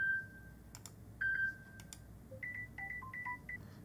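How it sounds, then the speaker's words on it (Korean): A smartphone plays short electronic signal tones from its ringtone settings, a series of brief beeping chimes and pitched blips in quick succession, clear and close with faint tapping between them. "아래쪽으로 내려가면 간단한 신호음들이 나오죠."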